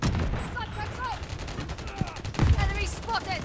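Rapid bursts of gunfire from Call of Duty Modern Warfare 3 crackle repeatedly under a voice, with a heavier cluster of shots near the end.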